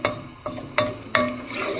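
Tomato ketchup sauce stirred in a pan on the stove: a sizzling simmer with several distinct scraping strokes of the spoon against the pan, close up and without talk.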